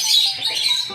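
A short, shrill squawk from a hen with an injured leg rings out up close, a brief harsh cry lasting about a second.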